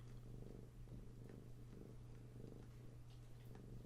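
Two pet cats, a big black one and a tiny white one, purring close up in a steady continuous rumble with soft breathy texture, alone with no talk.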